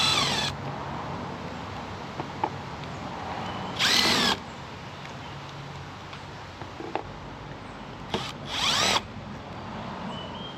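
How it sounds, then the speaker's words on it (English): A power drill spins out screws from a vacuum pump on a GMC Terrain, giving two loud bursts of whirring over a steady background hum with small clicks and handling noises between them. "So we'll go ahead and take these screws out."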